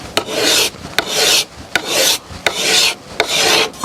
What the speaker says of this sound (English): My primary tool for removing wood at this stage is a card scraper. I just push with the edge and it creates nice little ribbons.